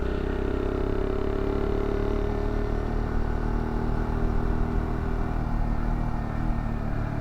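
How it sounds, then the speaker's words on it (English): A motorcycle engine revs up sharply during a rev-matched downshift into a turn, a steady loud mid-pitched drone with a quick blip, close and continuous without talk. "I'll turn here and I'm going to rev match."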